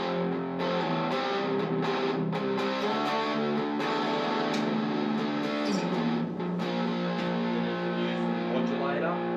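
Electric guitar plays sustained, distorted chords through an amp with gain and reverb effects, steady and fairly loud throughout.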